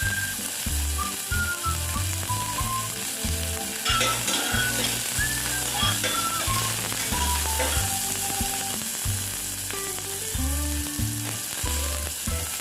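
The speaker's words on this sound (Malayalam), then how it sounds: "സവാളയൊന്ന് വഴറ്റിയെടുക്കാം." Thinly sliced onion sautés in a pan for a brown rice pulao, an even sizzling hiss throughout with a rhythmic pattern of stirring and scraping, close up and alone without talk.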